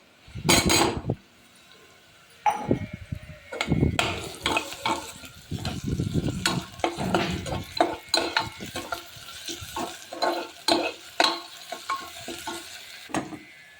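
Onion, ginger and garlic paste with cumin sizzles and fries in a pan while a spoon stirs and scrapes, with irregular clinks and bursts of louder frying over a quiet sizzling bed.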